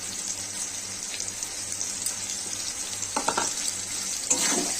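Potatoes seasoned with salt fry in a pan with a continuous, close hiss of hot oil. A few soft clinks and scrapes of stirring break through near the end, with no voices.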